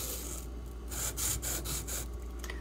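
A D2 steel knife blade stroked across a whetstone, rhythmic rasping rubs in a back-and-forth pattern, close and moderately loud over a low steady hum.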